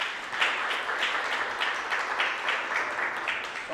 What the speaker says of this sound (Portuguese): Queria que você aplaudisse a Jesus.